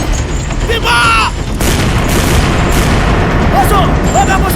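Stage cannon fire in a musical dance drama about Admiral Laksamana Keumalahayati, a loud booming blast amid dense theatrical sound, with a short whistling cue before it and sustained noise after.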